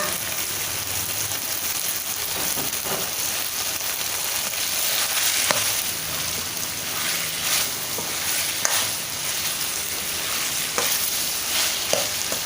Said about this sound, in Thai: ผัดให้ตะไคร้เราสุกนิดนึงนะคะ ให้พอนิ่มนะคะ